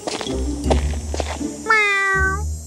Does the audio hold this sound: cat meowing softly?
yes